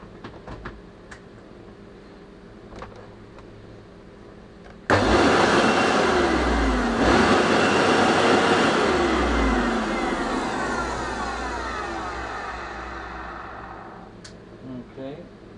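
Pure Power canister vacuum cleaner motor switching on abruptly and running with a loud, steady whine that slowly winds down, heard close up after quiet handling noises.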